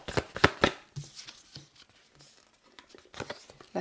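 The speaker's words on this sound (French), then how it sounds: "Je vais prendre une dernière carte." Tarot cards being shuffled and drawn by hand, a few quick riffling bursts at first, then softer, sparser card handling and sliding, close and fairly quiet.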